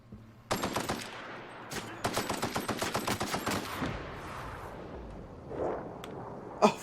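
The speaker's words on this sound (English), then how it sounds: "Let's try this out. It's a shotgun." Rapid bursts of gunfire from a shotgun in the video game The Outer Worlds, clustered sharp reports in two volleys, then rumbling blasts and a final loud crack.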